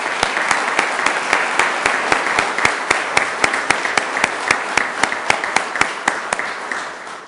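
Audience at a Sioux Falls city ceremony applauds counselors' families, steady, loud crowd clapping with sharp individual claps standing out in an even rhythm throughout.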